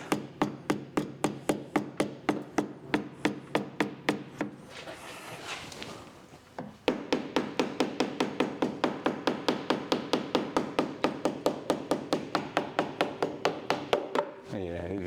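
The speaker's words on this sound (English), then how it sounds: "That small hammer is actually working great. I just see it like push the metal sheet to its spot." A small hammer taps rusted sheet metal into place on a Datsun in a fast, even stream of sharp, close blows, pausing briefly for a scraping rub before the rhythmic tapping resumes.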